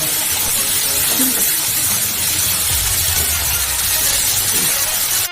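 Loud, continuous sizzling of pointed gourd frying in oil with salt and turmeric, a dense hissing spatter with faint low clatter underneath, no voices.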